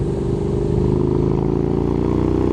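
A Honda X-ADV750 motorcycle riding in sports mode gives a loud, continuous engine drone with steady low rumble and a slight clatter, heard up close with no talking.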